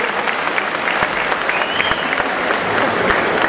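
Loud, dense applause fills a hall during a youth Pontic Greek dance festival, with steady clapping from a large audience and no speech over it.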